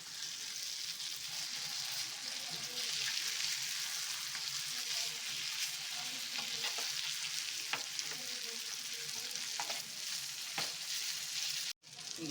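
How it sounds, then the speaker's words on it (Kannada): Bangda mackerel fish frying on a tawa gives a steady, close sizzle that runs the whole way through, with soft stirring and turning noises. "ಆ ಕಡೆಗೆ ತಿರುಗಿಸಿ ಚೆನ್ನಾಗಿ ಫ್ರೈ ಮಾಡ್ಕೋಬೇಕು."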